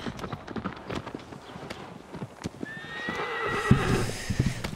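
A horse in Shadow of the Colossus neighs and whinnies, with steady clip-clop hooves running throughout and a loud whinny rising near the end, game sound alone with no talk.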